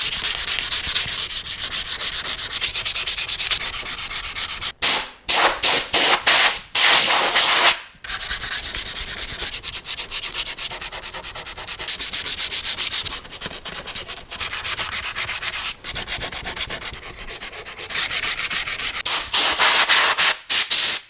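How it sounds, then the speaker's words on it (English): Steady rasping strokes of hand sanding on a plaque, loud and close, in long continuous passes broken by brief pauses and a few quicker back-and-forth bursts. "Do some more sanding, get rid of some of this extra black."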